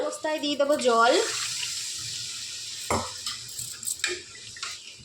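Water is poured into a pan of spiced rohu fish curry with bori lentil dumplings, a broad splashing rush that follows a brief voice and runs on with small bumps and clinks.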